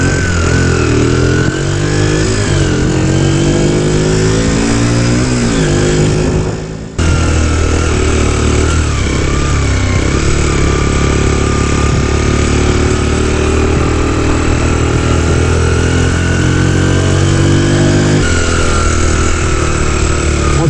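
A Magpower Biggers 50cc motorcycle engine runs steadily while riding through town, its buzzing drone loud and close throughout with pitch rising and falling as it accelerates, briefly dipping mid-ride before resuming.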